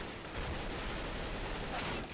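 Sustained automatic AK-47 fire in the video game Counter-Strike: Global Offensive, Arms Race mode, a dense, steady crackle of rapid shots running loud and close for about two seconds with no talking.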